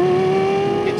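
A Lexus car engine giving a steady, loud droning note with a strong sustained tone, heard briefly and close up.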